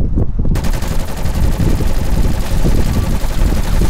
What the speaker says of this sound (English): I'm still rocking the fucking submachine gun I've been rocking since the start